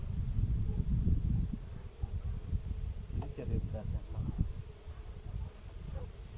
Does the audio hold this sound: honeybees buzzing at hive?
yes